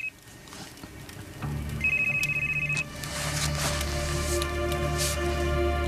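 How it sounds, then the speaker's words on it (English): A telephone rings with a bright electronic trill, a few repeated bursts over a low background hum. "Elizabeth, your phone."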